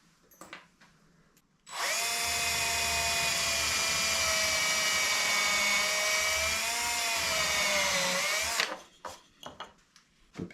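A power drill with a 3.5mm bit whines at a high steady pitch for about seven seconds, starting and stopping abruptly, with light handling noises before and after.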